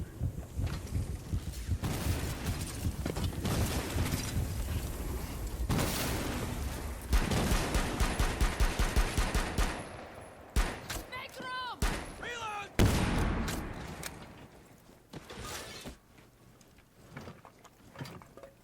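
Pistol gunfire in the video game Rainbow Six Siege. Rapid, loud bursts of shots and booms crowd the first half, then thin into scattered single reports and sharp electronic effects, with game voices mixed in.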